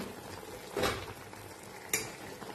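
Ground paste being stirred into a drumstick and potato curry in a pan, a faint simmer with two distinct scraping strokes of a ladle, quiet and close, with no voices.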